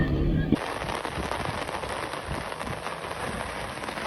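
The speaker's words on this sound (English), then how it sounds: "who was caught up also with a heavy downpour" Heavy downpour of rain during a rally, a dense steady hiss of rainfall close by that starts abruptly after a brief moment of voice and continues evenly throughout.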